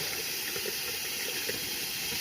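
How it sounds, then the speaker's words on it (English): Water runs steadily from a faucet in a 1979 home fed by a newly installed Rheem 30-gallon water heater, making an even, continuous hiss and splash with no talking. "I got water to my faucet"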